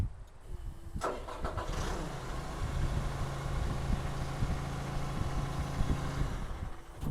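An engine cranks briefly and catches, then settles into a steady low idle, close by, with no voices.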